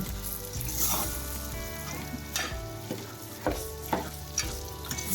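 Undhiyu, a Gujarati mixed vegetable dish, being stirred and mixed in an oily pan, with a steady close sizzle broken by repeated scraping strokes of a spoon against the pan.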